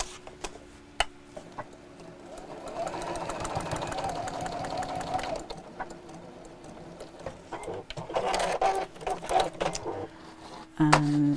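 Sewing machine stitching a Christmas apron, a steady rapid mechanical whirring in close bursts, with someone talking over parts of it.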